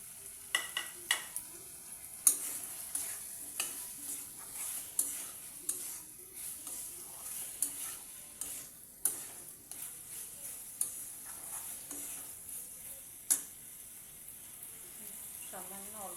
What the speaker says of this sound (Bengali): এর মধ্যে এই ভাজা সয়াবিনগুলিকে দিয়ে দিলাম।